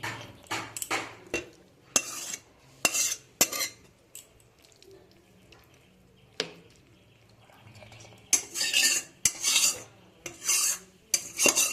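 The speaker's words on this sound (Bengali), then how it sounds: "এবার আমি একে কিছুটা নাড়াচাড়া করে নামিয়ে নেব।" A metal spoon scrapes and knocks around a pan of bhetki fish chachchari with shahi garam masala, giving intermittent bursts of clattering and rasping strokes separated by quiet pauses.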